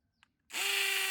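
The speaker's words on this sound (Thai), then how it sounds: "ในส่วนของระบบการเจาะกระแทกก็สามารถเจาะคานปูนแข็งๆแบบนี้ได้สบายนะครับ" An Emtop ECIDL20968 brushless cordless hammer drill bites into a hard concrete beam, starting after a brief quiet moment and then running as a loud, steady, high-pitched grinding whine.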